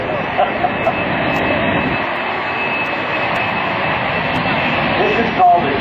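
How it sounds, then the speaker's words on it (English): An AV-8B Harrier jet roars at close range during a demonstration, a loud, steady, broadband engine blast that holds unbroken throughout. "This is also one of the noisiest airplanes in the world."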